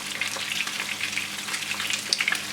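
Fish fries in hot oil for a Nigerian fish stew, giving a steady close crackling sizzle with small spits and pops and no voices.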